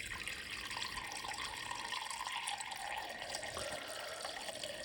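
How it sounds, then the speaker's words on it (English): Water runs steadily from a tap into a kombucha brewing jar. The close, continuous pour and fill lasts throughout without any break, and no one speaks. "I'm probably going to add a bit more water to this here"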